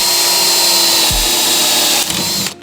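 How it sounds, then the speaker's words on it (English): A power drill whines steadily at high speed while pre-drilling a wooden board for a chick brooder box with a dull bit, then bogs and cuts out abruptly as the bit snaps on a knot. "I will pre-drill this with the dullest bit that I have."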